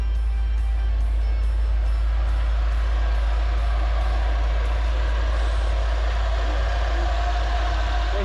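A 1990 Ford F150 pickup idles nearby, a steady low engine rumble with faint ticking and rattles above it, running evenly for several seconds without any voices.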